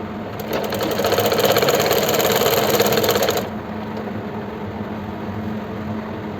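A sewing machine runs a steady, fast whirring stitch along the side seam of palazzo pants for about three seconds near and loud, then stops, leaving quiet room hum.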